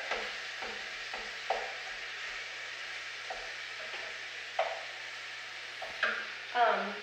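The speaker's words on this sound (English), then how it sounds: "Get these crumbles stirred up." Crumbles being stirred in a sizzling pan, a soft steady fry with intermittent scrapes of a utensil, moderately close and fairly quiet.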